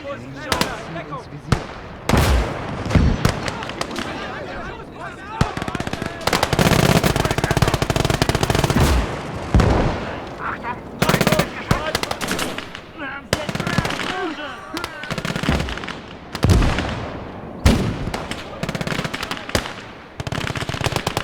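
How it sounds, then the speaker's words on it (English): Enemy machine gun fire in the WWII strategy game Call to Arms: Gates of Hell rattles in long, loud bursts, mixed with explosions and other gunfire, while a voice shouts in German over the battle. "Feindliches Maschinengewehr! Wo kommt der denn her?"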